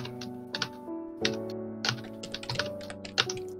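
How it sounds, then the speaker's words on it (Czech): A loud computer keyboard clatters with bursts of quick keystrokes, close and crisp over a steady game background tone. "mám docela hlasitou klávesnici"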